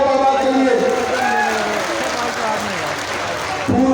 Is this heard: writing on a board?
no